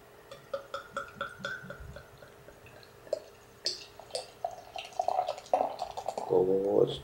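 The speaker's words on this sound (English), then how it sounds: "let's slow the pour down a bit" Beer, an 8 Wired HopWired IPA, pours into a glass in close, uneven glugs and splashes that build toward a fuller fizzing stream near the end.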